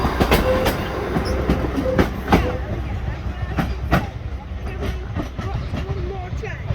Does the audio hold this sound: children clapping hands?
no